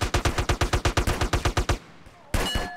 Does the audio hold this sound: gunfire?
yes